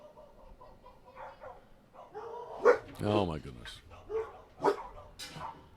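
A dog barks in short bursts during a casual conversation about duck hunting boats, the barks rising over nearby talking voices.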